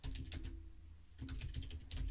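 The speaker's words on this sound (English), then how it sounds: "let's start typing it" Quick keystrokes clatter on a computer keyboard in steady clusters, close and fairly loud, with a short pause in the middle before the typing resumes.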